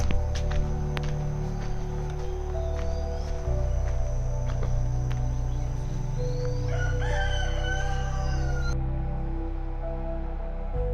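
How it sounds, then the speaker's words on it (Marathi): Roosters crow in a village outdoors at morning, a long drawn-out call rising midway through, set against a steady hum of insects and background noise. "कोंबड्यांचा कुराडा."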